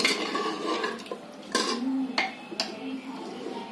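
Cooked masala chawli (cowpea) vegetable is scooped out of a metal pan, with several sharp clinks and scrapes of a spoon against the pan, close and fairly loud, under a faint background hum.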